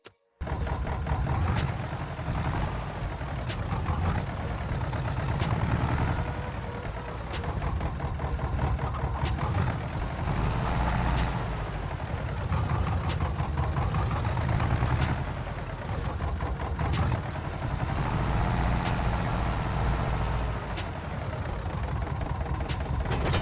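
A tractor engine runs in Farming Simulator 25, a loud, close, steady rumbling drone with a rhythmic knocking chug and slight rises and dips in pitch. It starts abruptly and carries on throughout with no talking.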